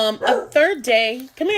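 A dog barks and yips in a few short, close bursts at home, mixed in with a person talking and calling it over.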